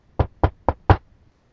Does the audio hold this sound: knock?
yes